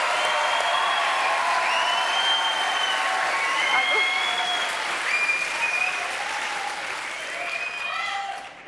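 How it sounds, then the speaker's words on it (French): Studio audience applauding after a sung rendition of a song on a French TV show, a dense, steady wash of clapping with scattered whistles and cheers that tapers slightly near the end. "Applaudissements."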